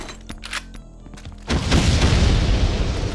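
A grenade goes off in Brutal Doom: a sudden heavy boom about midway, followed by a long, loud rumbling blast that fills the rest of the moment, after quieter game noises.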